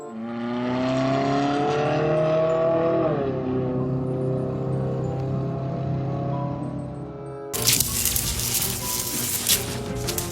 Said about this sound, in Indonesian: Racing car.